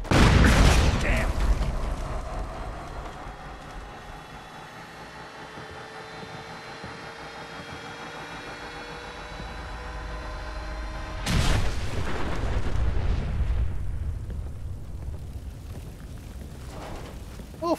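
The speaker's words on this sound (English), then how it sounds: "So that artillery landed as soon as I got out of the underground section" Artillery shells explode in Fallout 4: a heavy, rumbling boom opens the scene and a second loud blast strikes later, each fading into a low, sustained roar over a steady tonal game backdrop.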